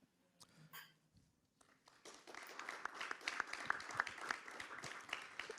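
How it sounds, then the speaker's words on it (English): Faint applause from a distant conference floor audience builds up after a quiet moment, scattered clapping thickening into a steady patter. "I don't know if you heard the applause from the floor."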